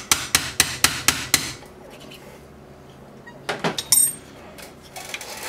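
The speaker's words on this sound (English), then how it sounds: "I'm gonna hammer this guy out." Six sharp, evenly spaced hammer blows ring out close by as a stock paintball marker grip is knocked out, followed by quieter clatter and handling of parts.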